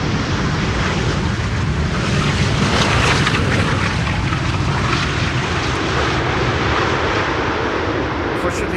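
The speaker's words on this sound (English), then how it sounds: "Unfortunately, that's an idle reverse landing there." A large jet airliner lands on runway 18R at Schiphol using idle reverse thrust, giving a loud, steady broadband roar that stays close and unbroken throughout.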